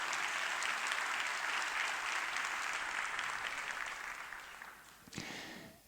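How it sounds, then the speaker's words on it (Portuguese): Applause from an audience for a university student music group at a conference in Porto, steady and dense, then thinning and fading toward the end with a brief late swell. "Eles já se estão a ir embora, mas acho que merecem mais um aplauso."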